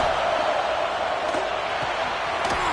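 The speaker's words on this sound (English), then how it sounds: "This crowd bringing the energy and noise early." Stadium crowd at an Ole Miss game in College Football 26, a dense continuous roar of many voices that holds steady and fills the whole stretch, with no clear peaks.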